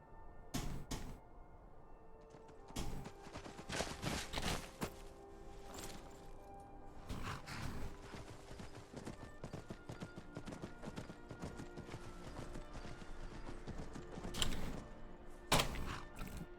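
Horse hooves clip-clop in the Skyrim video game, faint clusters of rhythmic hoofbeats coming in bursts across a quiet stretch with some clunking in between.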